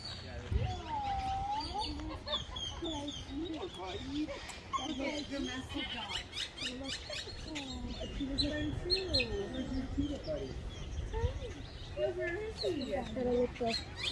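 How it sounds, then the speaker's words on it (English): Loud honking calls from a flock of geese in San Diego, overlapping and continuous outdoors, with people talking faintly beneath and some chirping birds mixed in. "These are geese and they're being loud."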